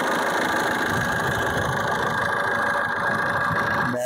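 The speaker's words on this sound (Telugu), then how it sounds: "వెహికల్ యొక్క ఇంజన్ చూపిస్తాను, చూడండి" A 2014 Maruti Suzuki Swift VDI diesel engine idles steadily up close, a continuous low rumble with a faint knocking texture that holds even for the whole stretch before a brief thump at the end.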